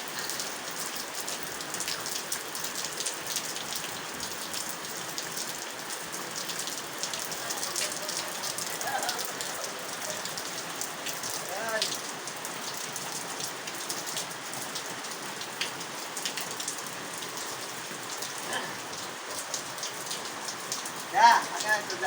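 Steady rain patters on surfaces during a storm in the Philippines, a continuous hiss of drops with occasional sharper splashes and a faint voice now and then.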